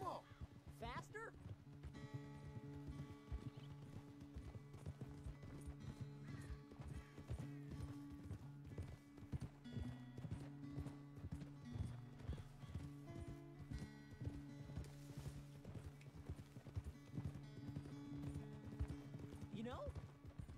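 Horse hooves clip-clop in a quick galloping rhythm for a long stretch, with a horse whinnying at times and voices talking over the hoofbeats.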